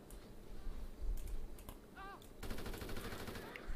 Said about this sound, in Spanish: Palmera está dentro, está disparando ya.